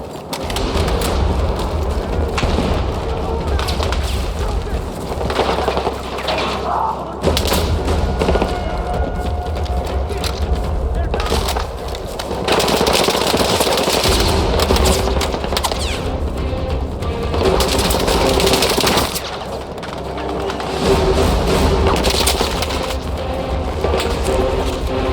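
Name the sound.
gunfire and explosions in video game Battlefield 6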